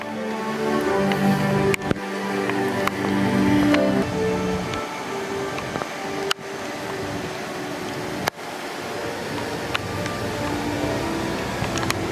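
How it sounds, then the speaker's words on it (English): Steady, dense hiss of rain falling outdoors at Epic Universe theme park, continuous and fairly loud throughout, with a few faint clicks and knocks scattered over it. "So it's still raining"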